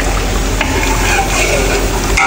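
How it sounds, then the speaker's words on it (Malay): Beef dendeng being stirred in a pan with a splash of tamarind water until it thickens, a steady close sizzle with scraping stirs throughout. "Sikit air asam jawa, sikit saja, dengan banyak kita kacau-kacau dia lagi sampai dia pekat"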